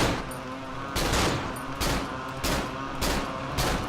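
Rapid gunfire from a weapon in the horror video game Cry of Fear, a burst of loud repeated shots in quick succession that hit hard and close, with no talk over them.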